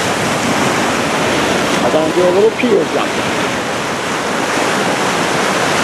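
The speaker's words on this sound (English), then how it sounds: "Waves are crashing at Magnolia Pier." Loud, continuous surf roars and washes against Magnolia Pier under strong wind, with a voice speaking briefly over the steady crash of the waves.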